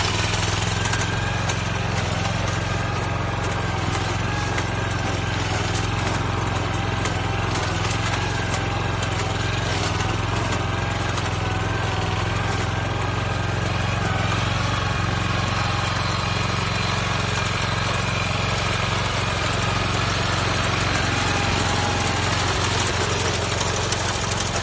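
A rice harvesting machine cuts rice in a Japanese paddy field, its engine a continuous, rough, knocking drone that is steady and fairly close for the whole stretch, with no voices.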